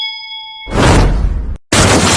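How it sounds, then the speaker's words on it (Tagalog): A single bell-like chime with a clear sustained tone rings alone at the start, then gives way to a loud broadband burst that stops briefly and resumes, with no talking. "Bell."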